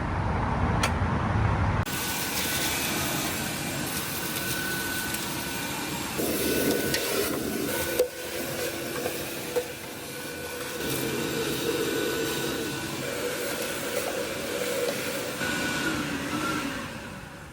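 A vacuum cleaner runs steadily while cleaning out the old cylinders of a 1953 Peterbilt truck engine, a loud continuous drone with shifting pitch as the nozzle moves, with no talk.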